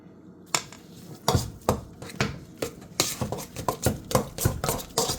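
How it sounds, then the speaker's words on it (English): A utensil works cream cheese and butter together in a bowl, with repeated clinks and scrapes against the bowl in an irregular rhythm that quickens toward the end, close and without talk. "Perfectly incorporate the cream cheese and the butter."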